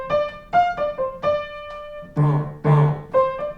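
Solo rock piano practice figure with left-hand stop time on D, sparse accented chords and bass hits in a short one-measure pattern, close and moderately loud, alone without talk.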